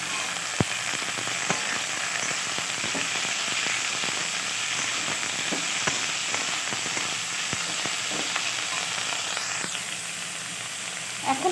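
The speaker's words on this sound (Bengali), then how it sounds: "নিম পাতাটা দিয়ে ভালো করে আমি ভাজবো" Pumpkin pieces and neem leaves frying in oil in a home kitchen, a continuous hiss of sizzling oil with scattered sharp pops and crackles throughout, no talking.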